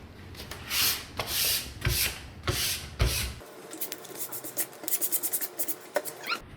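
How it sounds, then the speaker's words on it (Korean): A hand sands a painted surface with 320-grit sandpaper during building-painting practice, giving repeated rough rubbing strokes, loud and close at first, then lighter, quicker scratchy passes. "(320방) 사포로 연마를 하실 때는"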